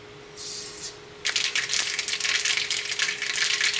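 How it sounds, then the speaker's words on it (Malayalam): Mustard seeds crackle and pop in hot coconut oil for a Kerala chicken varattiyathu, a short faint sizzle first, then a dense run of sharp close pops with no voices. "നമ്മുടെ എണ്ണ ചൂടായിട്ട് ഇതിലേക്ക് നമുക്ക് ആദ്യം തന്നെ കടുകിട്ടിട്ട് പൊട്ടിക്കാം"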